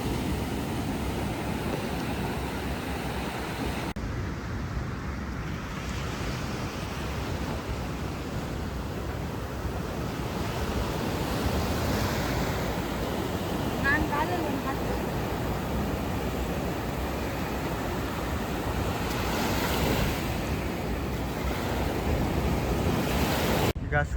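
Sea surf rolling in at Suratkal lighthouse beach in Mangalore around sunrise, a continuous broad wash of waves mixed with wind buffeting the microphone, steady and fairly loud from start to finish.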